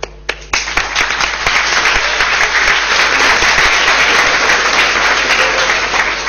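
Audience at a university computer graphics and multimedia conference breaks into applause, starting with a few scattered claps, then swelling into loud, sustained, even clapping from a full room.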